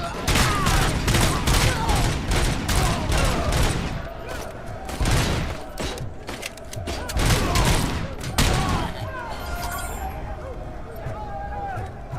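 Assault rifle fire in RoboCop: Rogue City, rapid bursts of loud shots in clustered volleys with brief gaps, close and dense, over a busy game background.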